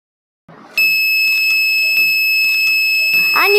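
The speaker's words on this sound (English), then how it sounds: "now we can observe a beep sound of alarm in motor." A model house fire alarm in a school science project sounds a steady, loud electronic beep tone that starts abruptly and holds continuously, with faint pulsing clicks beneath.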